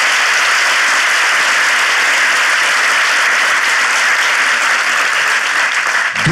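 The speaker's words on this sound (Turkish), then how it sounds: "İlişki testi alkışlarla devam ediyor." A live comedy-show audience on a stage in Ataşehir breaks into sustained, loud applause, a thick even wash of clapping that continues unbroken from start to finish.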